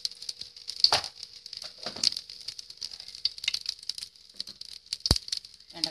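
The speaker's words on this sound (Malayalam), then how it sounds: "വെളിച്ചെണ്ണ ചൂടായിട്ടുണ്ട് നമുക്കിനി ആവശ്യത്തിന് കടുക് ഇട്ട് കൊടുക്കാം" Mustard seeds crackle and pop in hot coconut oil in a pan, making scattered sharp snaps and a light sizzling rattle up close, with one louder pop near the end and no talk.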